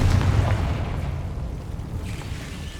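A Confringo blasting curse explodes in Hogwarts Legacy, a deep booming burst that rumbles and slowly fades over a few seconds, with no voices over it.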